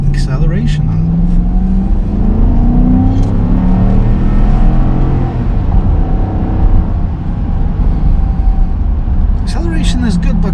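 A 2021 Dodge Durango Citadel AWD with a Hemi engine accelerates hard, a steady loud engine roar with rising tone heard from inside the cabin, with a voice talking over it.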